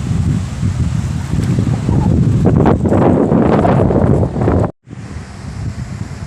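Strong wind roars steadily and loudly into the microphone while fishing from a small boat on open water, with washing waves underneath. The noise cuts out briefly near the end and then resumes.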